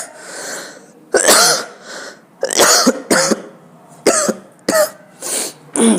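A teacher coughs repeatedly in sharp, close bursts, about eight coughs in separate clusters with short quiet gaps between them, and no talking.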